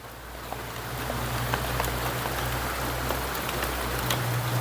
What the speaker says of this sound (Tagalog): Ulan pa kuya.